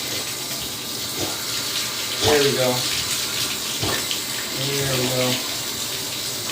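Lukewarm water pours steadily into a small cooler for a dog's bath, a loud close splashing gush under brief speech.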